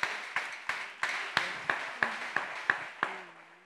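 Churchgoers applauding the word of God with about ten slow, evenly spaced claps, each sharp and echoing in a reverberant hall, no voices over them.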